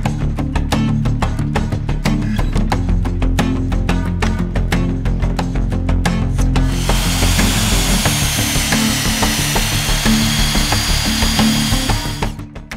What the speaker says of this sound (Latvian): tad varam urbt caurumus